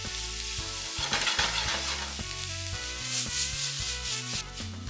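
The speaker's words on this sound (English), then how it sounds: "After 2 to 3 minutes of frying, let's add all the colors of bell pepper and stir it well." Bell peppers of several colours fry in a pan for honey chilli potato and get stirred, giving a steady close sizzle with scraping stirs underneath, while background music plays throughout.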